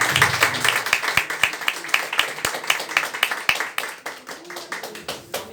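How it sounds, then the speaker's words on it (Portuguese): A church congregation claps in brisk, uneven applause, hands striking sharply and close at first, then thinning out as the clapping winds down. "Deus abençoe e aplaude a Jesus que Ele merece"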